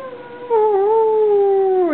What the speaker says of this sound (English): Where's the dog howl?